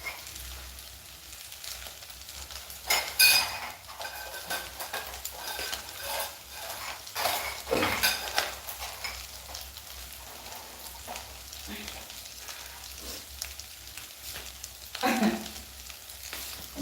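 Onions fry in a pan during a home bulk-cooking session with a soft, crackly sizzle. Occasional louder clatters of utensils and stirring break through the frying.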